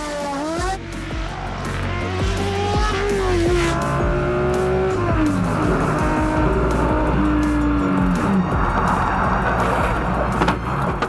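Ferrari race car on a Tour Auto rally stage from Paris to Biarritz, engine rising and falling through gear changes as it brakes late, with tyre squeal and skidding; loud, close and continuous.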